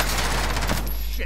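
Rapid automatic gunfire in Call of Duty, a dense, loud burst of shots crackling continuously over a brief moment with voices talking in the background.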